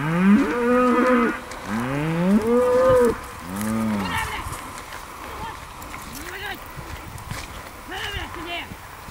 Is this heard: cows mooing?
yes